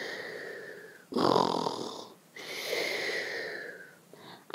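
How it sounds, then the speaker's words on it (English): The dormouse from Alice in Wonderland snores loudly in a cartoonish way, with two long, rasping inhales, each followed by a whistling exhale, then a short snort at the end. "The little mouse has got its cheek on the table and it's snoring loudly because it's"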